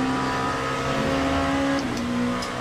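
Race car engine in the endurance racing game Le Mans Ultimate, a steady loud tonal drone that rises slightly in pitch, with a brief gear change near the end and no voices.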